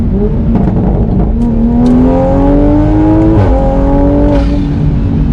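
A tuned A90 Toyota Supra engine revs up steadily, pitch climbing as it accelerates, briefly dropping at a gear change, then rising again; loud and close, no talking.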